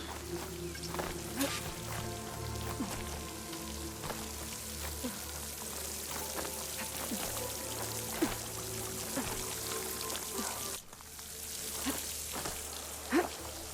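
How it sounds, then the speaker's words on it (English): In Horizon Forbidden West, water near a waterfall streams into a rock wall, making a steady, close, splashing pour that runs throughout with a brief dip near the end. "The water's flowing into the wall."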